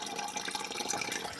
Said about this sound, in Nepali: पानी भरिँदैछ गाइस मेरो बाल्टिनमा देख्न सक्नुहुन्छ हजुरहरु